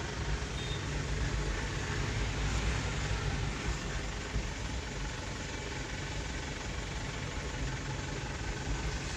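A diesel four-wheel truck engine idles steadily without throttle, a continuous low rumble heard from close by throughout, with no speech.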